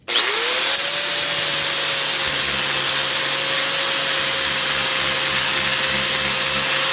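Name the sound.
filing down a parting line rib on a part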